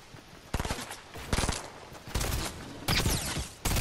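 Gunfire in a duos shooter video game, several loud bursts of rapid automatic shots fired in separate volleys, close and sharp against a quieter background.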